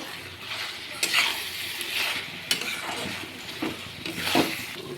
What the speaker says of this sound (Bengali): আরও কিছুক্ষণ এটাকে আমি ভাজা ভাজা করে দিব।